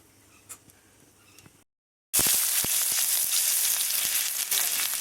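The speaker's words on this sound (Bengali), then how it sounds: "পেঁয়াজটা ভালো মতো করে ভেজে নেব।" Chopped onions fry in hot oil with dried red chilies, bay leaf and five-spice seasoning, giving a loud, steady sizzle with crackling pops that starts suddenly after a brief gap of quiet.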